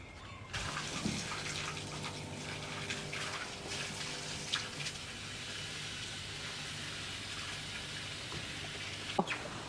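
Electric pump drawing water out of an Intex above-ground pool, a 4.5 m model, through a hose: a steady, moderate rush and trickle of flowing water running continuously, with a few faint clicks and splashes.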